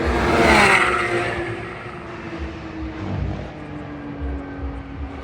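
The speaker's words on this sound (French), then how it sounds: "Des avions de chasse." Fighter jets flying overhead at the Brûleurs de Gommes car event, a loud broadband roar that swells early and slowly fades into a distant rumble mixed with car noise below.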